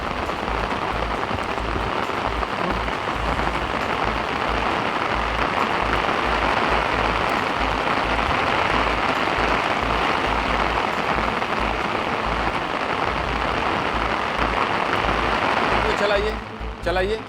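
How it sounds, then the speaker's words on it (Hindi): Steady heavy rain falls on soldiers collecting rainwater in a polythene sheet. The patter is dense, close and unbroken throughout and only eases briefly near the end. "ये जवान जो बारिश का पानी इकट्ठा कर रहे हैं"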